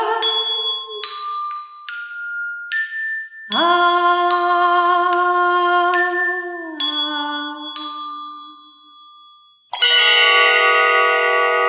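Bells ring out in a sequence of clear, resonant strikes, each tone lingering and decaying before the next, ending with a louder, brighter peal.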